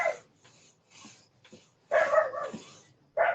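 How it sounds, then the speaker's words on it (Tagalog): A dog barks at another dog outdoors, with loud, close yaps and whimpers in short bursts separated by quieter pauses. "Ay, nakakita ng kapwa-aso niya."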